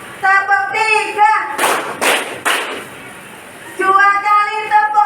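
Students in a classroom clapping rhythm game give three sharp, loud group claps in quick succession, with a teacher's voice speaking before and after them.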